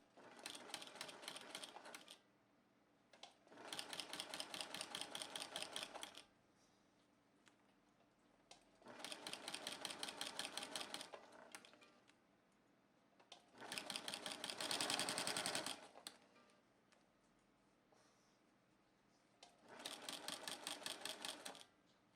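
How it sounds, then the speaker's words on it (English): Sewing machine stitching quilt-as-you-go blocks together at a quarter-inch seam, five rapid rhythmic bursts of needle clatter lasting a couple of seconds each, separated by quiet pauses, close and clear with no talk. "now we're going to sew this right here at a 1/4 inch"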